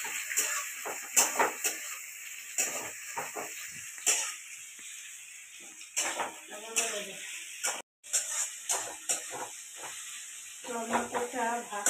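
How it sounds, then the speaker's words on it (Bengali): Tomatoes fry in a pan with a steady high sizzle and hiss, punctuated by repeated stirring scrapes and clinks in an irregular rhythm, with a brief dropout near the middle. "যতক্ষণ না কাঁচা গন্ধটা যাচ্ছে ততক্ষণ ভাজতে হবে টমেটোটা"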